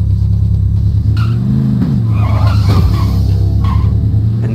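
A car in the video game Payday 2 drives and skids: a loud, close engine drone with a rising rev and a sliding tire squeal midway, continuous throughout.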